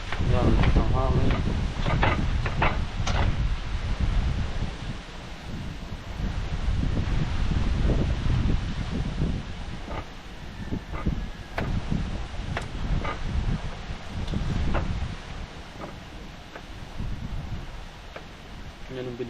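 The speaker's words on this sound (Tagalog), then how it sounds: "Yan, ang hangin." Gusty outdoor wind buffeting the microphone with a heavy low rumble and rustling, rising and falling over a cooking setup with cucumbers and pork, while a voice talks intermittently underneath.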